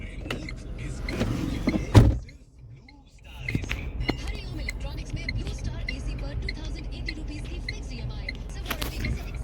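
Tata Punch 2024 car with a door or windows being shut by the roadside, a loud thump near two seconds, then a steady wash of traffic passing close by for the rest of the clip, with a voice talking briefly at the start.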